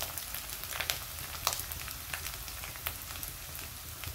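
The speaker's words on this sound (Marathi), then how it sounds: "हिरवी मिरचीचं वाटण आता चांगलं परतलंय" Green chili paste sizzles steadily as it is sautéed in a pan for a hadga flower vegetable dish, a continuous close crackle with scattered brighter pops and no talk.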